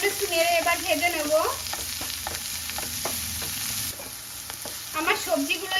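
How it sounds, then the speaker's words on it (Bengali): Vegetables seasoned with black pepper fry in a pan for cheese pasta. A soft sizzle runs under repeated scraping stir strokes, with a voice talking briefly at the start and end. "সামান্য একটু নেড়ে এবার ভেজে নেব"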